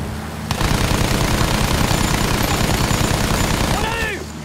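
Rapid, sustained bursts of heavy anti-aircraft gunfire in the video game Battlefield 1 pound continuously for several seconds, loud and close, with whistling tones sweeping near the end.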